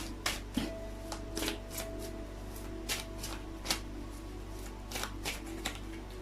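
Tarot cards are shuffled close by, a quiet series of crisp riffling bursts and soft taps spaced irregularly over a low steady hum.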